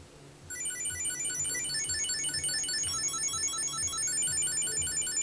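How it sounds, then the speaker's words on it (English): A smart wallet rings when called from a phone app, playing a repeating electronic ringtone melody of bright high beeps in a steady pattern after a brief quiet start, with no talk. "I can open up an app on my phone and call my wallet."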